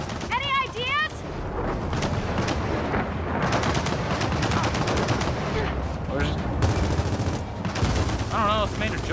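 Rapid bursts of turret gunfire from a dug-in emplacement in the Gears of War 4 video game hammer on steadily for the whole stretch, loud and dense, while a voice shouts over the shooting.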